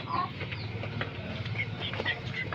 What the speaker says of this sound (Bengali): আমাদের কাছে বিভিন্ন রকমের মুরগি আছে।